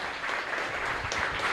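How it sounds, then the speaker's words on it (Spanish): Applause from a church congregation during a live Mass at a chapel in Ñemby, a steady broadband patter of clapping hands at moderate distance, continuous for the whole moment with no voices over it. "Un fuerte aplauso para todos nosotros"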